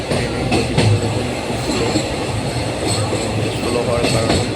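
A train crosses the New Farakka bridge, its carriages producing a continuous loud rumble with rhythmic clickety-clack wheel beats and faint metallic squeals, heard up close from on board.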